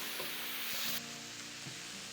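Ground beef and diced onion sizzle steadily in a hot pan, a faint, even frying hiss with a soft stir or scrape partway through.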